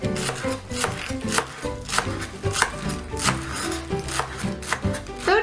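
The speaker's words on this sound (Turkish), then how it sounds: "Yaklaşık 600 gram ıspanak. Kafasının şu kısmından çok azıcık kesiyorum." A knife chops through about 600 grams of spinach on a cutting board in a steady run of crisp, close strokes, with a soft musical bed underneath.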